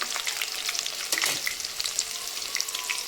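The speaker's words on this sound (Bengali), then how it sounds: "এবার দিয়ে দিলাম ওর ভিতরে একটু একটা কাঁচা পেঁয়াজ কেটে দিয়ে দিলাম।" Chopped raw onion sizzles steadily in a hot pan for biryani, a close, continuous frying hiss with a brief stir partway through and no talk.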